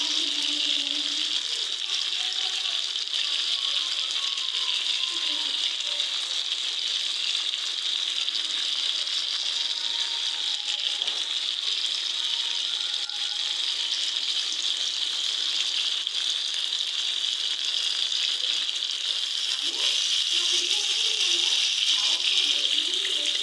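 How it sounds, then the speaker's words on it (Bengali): Fish and gravy simmering in a hot pan, producing a steady, even sizzling hiss that runs unbroken throughout at moderate loudness. "মাছগুলো দিয়ে পরিমাণ মতো ঝোল দিয়ে দিব"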